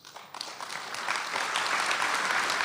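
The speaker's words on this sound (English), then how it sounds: "asking you for an applause to the panelists" An audience at a circular economy conference claps for the panelists, starting with scattered hand claps that quickly swell into full, steady applause.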